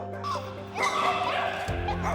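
Stray dogs abandoned by their owners bark and yip in overlapping bursts, mid-distance, over a busy background that continues throughout, with some whimpering mixed in.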